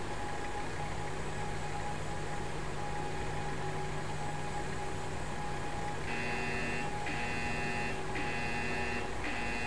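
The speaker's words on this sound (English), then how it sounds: "We have an alarm with the boiler." A boiler alarm in a ship engine room simulator beeps in short repeated pulses, starting partway through over a steady electronic hum and machinery drone, with no talking.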